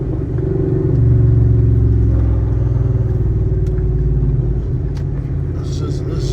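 A car engine rumbles low and loud after an engine swap, its idle surging and sagging as it bogs and hunts, with faint talk and a few clicks over the steady drone.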